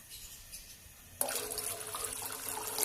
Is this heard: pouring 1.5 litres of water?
yes